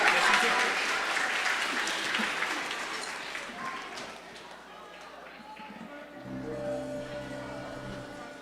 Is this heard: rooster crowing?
no